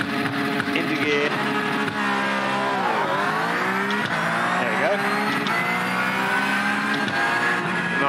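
A Porsche GT3 Cup race car in the iRacing sim launches hard from a standstill at full throttle, its loud engine note climbing and dipping through rapid gear changes over a steady roar for about eight seconds.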